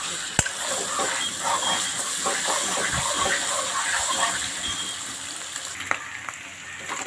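Steady, close sizzling from a pan of koloi shak greens frying with two eggs, a continuous crackling hiss with a few soft knocks.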